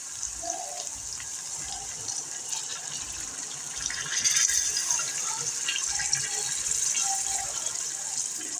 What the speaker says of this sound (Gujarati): હવે આપણે તેમાં થોડું પાણી એડ કરીશું